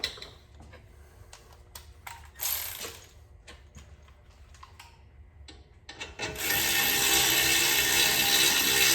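Ratchet working the caliper bolts on a front brake job of an Audi, with scattered sharp clicks and rubbing followed by a steady louder mechanical whir near the end, no voices.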